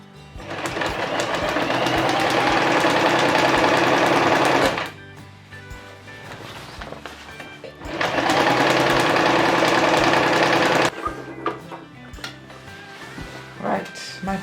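A sewing machine stitches two gathering lines along skirt fabric in two loud, steady bursts of rapid mechanical whirring, each lasting several seconds, separated by quieter handling noises and brief pauses.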